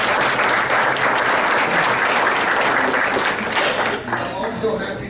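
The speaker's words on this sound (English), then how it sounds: "Let's give them a round of applause." Luncheon guests at the OCU Blue-White Luncheon break into loud, close applause, a thick wash of clapping that holds steady, then begins thinning out toward the end.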